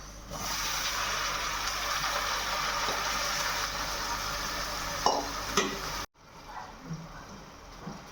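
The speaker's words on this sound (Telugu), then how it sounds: "ఫ్రై అయిన తర్వాత ఇప్పుడు దీనిలో కట్ చేసి పెట్టుకున్న టొమాటో," Onion and green chili frying in a pan with cut tomato going in: a loud, steady close-up sizzle and hiss with a couple of stirring scrapes, then the sound drops off abruptly into a quieter simmer.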